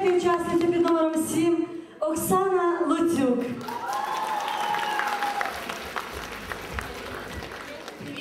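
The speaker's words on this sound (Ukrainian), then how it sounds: "Не скупіться аплодисменти" Audience applause at a local Miss Turiysk beauty pageant in 2008, with a voice on a public address at the start, then steady clapping from a hall crowd that continues under faint tones.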